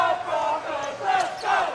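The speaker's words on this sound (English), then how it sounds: "As you hear the Broncos crowd urging them on" A Broncos basketball crowd cheers and urges its team on during a BigV YL1M grand final between Wyndham and Hume, a steady, rising-and-falling roar of many voices filling the gym.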